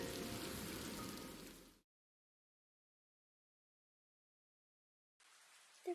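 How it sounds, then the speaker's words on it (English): Steady rain falls and patters on surfaces at moderate level for a couple of seconds, cuts to silence, then returns faintly with a small knock near the end. "The rain showed no sign of stopping."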